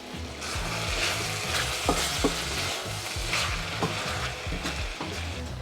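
Chicken thigh frying in oil for chicken pastil, a loud continuous sizzle with repeated rhythmic scraping of a utensil against the pan, close and without talk.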